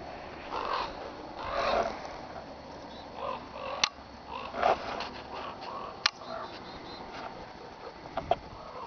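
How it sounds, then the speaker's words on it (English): Ravens calling in a snowy outdoor setting, with a few sharp, loud caws standing out over soft rustling and scattered faint bird sounds, spaced irregularly through the stretch. "Well, I hear the ravens."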